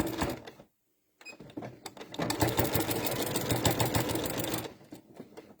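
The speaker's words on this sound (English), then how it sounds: "I'll sew this down a little bit and I'll show you how that corner goes over" A sewing machine stitches down quilt binding on fabric, running loud and close in a steady rapid chatter after a brief pause and short start.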